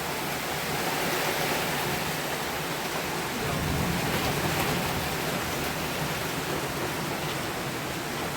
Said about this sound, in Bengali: আকাশ একবার পরিষ্কার হয়ে গেল, ঝমঝমিয়ে বৃষ্টি।